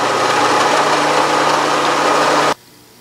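A Bridgeport milling machine drilling through a steel wrench, a loud steady motor whine with a faint hum that cuts off abruptly near the end, leaving quiet room tone.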